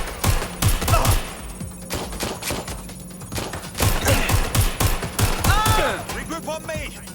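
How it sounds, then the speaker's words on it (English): Gunfire in Watch Dogs Legion: repeated loud bursts of close shots in quick clusters, with brief pauses between volleys and a shouted voice breaking through near the end. "Shots fired! Shots fired! I'm taking fire!"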